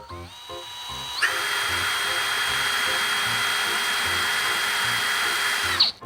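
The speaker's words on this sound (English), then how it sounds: "I'm going to drill them by hand" A drill bores holes into a Yorkie chocolate bar, a steady whirring grind that starts abruptly, runs evenly for nearly five seconds and then cuts off, close and loud with no talking.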